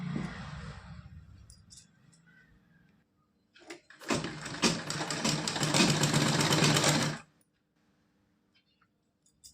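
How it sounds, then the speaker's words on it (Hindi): A sewing machine runs straight stitches along a net fabric strip for a small idol's dress. Quiet handling and fabric rustle come first, then a close, steady mechanical whir lasting about three seconds before it stops abruptly. "इस पर सीधी सिलाई लगा लेना है।"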